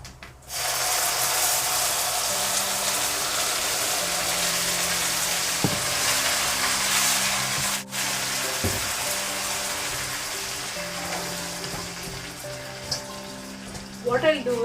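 Mint chutney sizzles steadily in a hot pan already holding tamarind, for mint fried rice, a dense continuous frying hiss with a few faint utensil clinks near the end.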